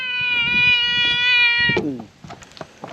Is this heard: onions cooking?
no